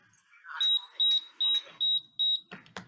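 An EM radiation detector beeps five times in an even, rapid series of shrill electronic tones, loud and close, followed by a brief rustle and handling sounds.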